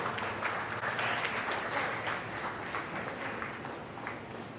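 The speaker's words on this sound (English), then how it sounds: "Big round of applause for this great honor." Steady, moderately distant applause from an audience at an award ceremony for a print olympiad finale, sustained throughout and tapering slightly near the end.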